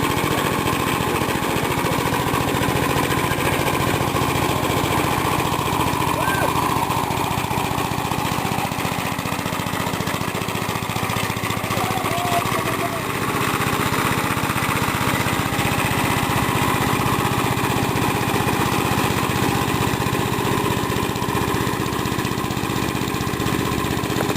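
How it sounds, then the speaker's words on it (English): An old Gravely two-wheel garden tractor engine runs steadily at close range, a constant loud mechanical drone without pauses. "And there it is for you, ladies and gentlemen, the old Gravely tractor."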